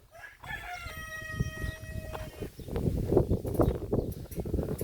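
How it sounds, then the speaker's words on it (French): A young brown rooster on a small poultry farm crows once, a clear drawn-out call near the start, followed by scattered scratching and clucking noises from the flock. "Là-bas on a un jeune coq marron."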